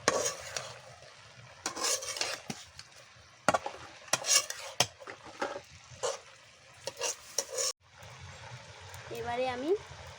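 A spoon or spatula scrapes and stirs banana-flower and prawn curry in a pan, giving irregular clinks and scrapes over a soft sizzle, with a voice speaking intermittently.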